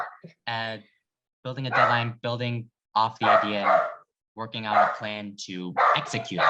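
A pet dog barks a few short times indoors while a person keeps talking steadily over it.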